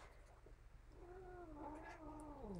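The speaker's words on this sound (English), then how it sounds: "Daisy, leave the kitty alone." A cat lets out a long, drawn-out meow that rises and bends into a complaining wail, close by over a low, steady background hum while another pet pesters it indoors.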